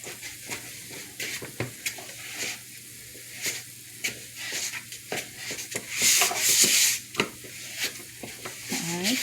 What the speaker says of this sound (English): Stir around the bowl